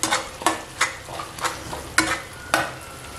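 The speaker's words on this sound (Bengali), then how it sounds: "একদম লো আঁচে মশলাটাকে খুব ভালো করে কষাচ্ছি।" A spice masala with crushed kasuri methi is stirred in a pan over low heat for a spicy potato curry, with about seven distinct scraping strokes in an even rhythm over a soft, continuous sizzle.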